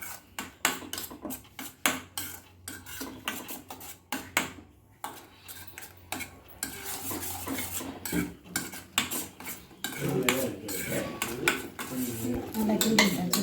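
Kara chutney stirred in a cooking pan, a steady run of metal utensil scrapes and clinks against the pan, close and busy, growing denser toward the end.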